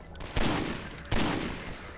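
Heavy gun from Gasmask's Armory Redux firing in Garry's Mod, two loud booming shots about three-quarters of a second apart, each with a long decaying tail, no talking.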